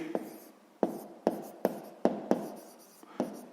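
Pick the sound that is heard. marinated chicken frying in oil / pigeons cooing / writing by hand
writing by hand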